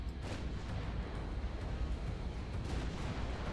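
Battleship guns firing in a naval combat video game, a low continuous rumble of heavy distant cannon fire with repeated muffled booms, fairly quiet and steady throughout.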